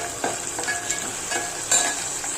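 Tomatoes frying in a spice tempering for mutton curry, a continuous close sizzle with a few sharper crackles and stirring scrapes, no voices.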